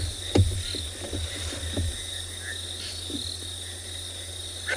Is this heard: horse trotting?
no